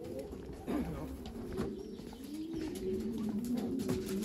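Racing pigeons coo steadily at a loft after flying home from a race, a continuous close rolling cooing with faint background rustle.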